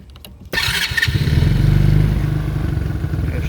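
A Chinese four-wheeler ATV engine cranks and catches at half a second, then settles into a loud, close, steady chugging idle with a rhythmic mechanical clatter.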